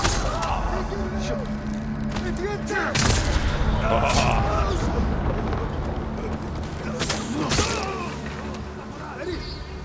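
Cannons and explosions boom repeatedly in the PS5 game Ghost of Tsushima DLC, several sharp blasts spaced a few seconds apart over ongoing battle noise, with someone talking throughout.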